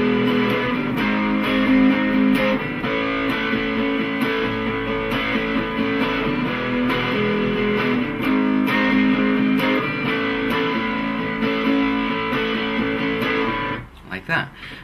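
An electric guitar strums the chorus of a song, with continuous full chords at steady volume for most of the passage, then stopping abruptly near the end.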